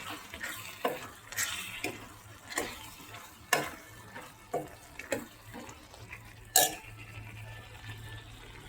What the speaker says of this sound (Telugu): ఇప్పుడు కలిపేసుకోవాలండి.